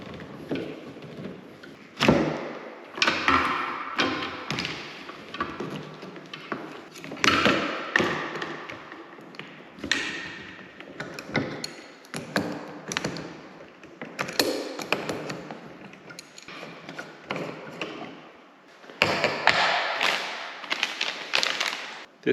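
A reverse osmosis filter housing is unscrewed from its tank: irregular close creaks, taps and soft thumps as it is twisted and handled, with brief pauses between bursts.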